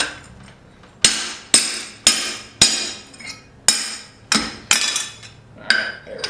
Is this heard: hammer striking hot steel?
yes